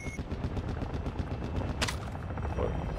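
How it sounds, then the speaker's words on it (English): Rapid automatic gunfire rattles in the video game Call of Duty DMZ, a continuous stream of fairly close shots with a louder crack near the middle, alongside a faint rotor-like drone. "The healer's shooting at somebody."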